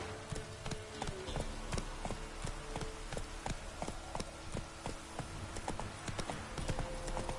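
Rhythmic clip-clop of a horse's hooves galloping at steady pace in The Witcher 3, loud and close, with repeated sharp strikes across the whole stretch and a swampy game setting beneath.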